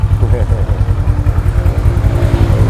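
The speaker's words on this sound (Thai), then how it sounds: "เครื่องยนต์แน่นๆนะครับ ไม่มีเสียงโซ่ราวเลน ไม่มีเสียงวาว" A 2017 Kawasaki Versys 650 runs after starting with a steady, close, pulsing low idle, while someone talks over it.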